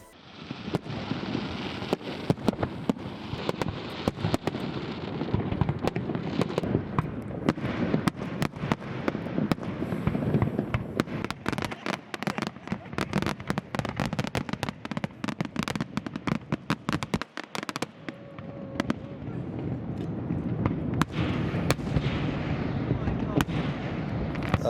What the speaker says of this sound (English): That was a super impressive firework.